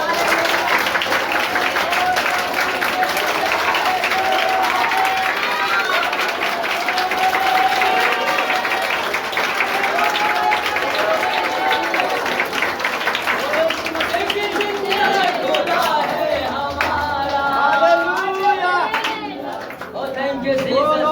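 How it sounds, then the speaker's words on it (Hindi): A standing crowd at a Christian worship gathering claps vigorously and rhythmically for about twenty seconds, loud and close, while voices and singing carry on over the clapping. "सब लोग खड़े होकर एक बार जोरदार तालियां बजाएंगे।"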